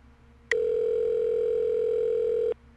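A cell phone dial tone in the video game Saints Row 2: one steady electronic tone that starts abruptly, holds for about two seconds and cuts off cleanly, clear and alone.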